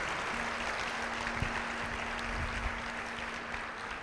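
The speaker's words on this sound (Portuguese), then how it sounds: "Quem recebe aí, dá um aplauso para o Senhor." Congregation applause during a family church service, a soft, distant wash of clapping holding steady with a faint sustained tone underneath.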